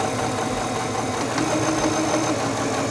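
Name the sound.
Singer 7258 computerized sewing machine sewing forward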